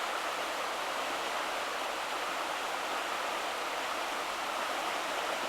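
Creek water on a disc golf course gives a steady, even rush of flowing water that holds without change from start to end, with no one speaking.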